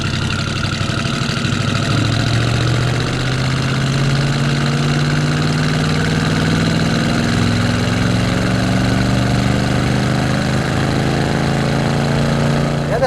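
A 1966 Ford F100 pickup with a 390 V8 and automatic transmission pulls under throttle, its loud, steady engine drone rising gradually in pitch as it accelerates, heard from inside the cab.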